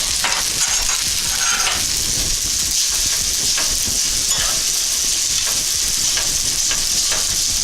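Butter sizzles and fries loudly in a pan with garlic herb spaghetti, a continuous dense crackle and hiss close up with faint stirring scrapes.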